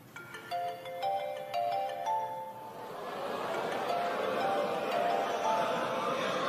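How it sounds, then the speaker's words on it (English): A mobile phone ringtone chimes through a comedy club audience at a stand-up show, repeating a short tonal melody a few times before the crowd's laughter and murmur swell and cover it. "Go on and answer your phone"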